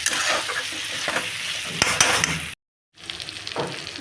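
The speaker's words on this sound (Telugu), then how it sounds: "ఇట్లాగా ఫ్రై అవుతుంటే నిదానంగా వేసుకోవాలండి" Brinjal frying in a pan while a spatula scrapes and stirs it, a loud dense sizzle with scraping strokes that cuts out briefly near the end and then resumes, no voices.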